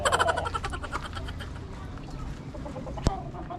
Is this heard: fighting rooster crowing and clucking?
yes